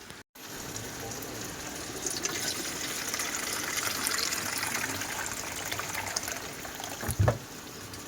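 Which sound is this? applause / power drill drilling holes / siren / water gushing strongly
water gushing strongly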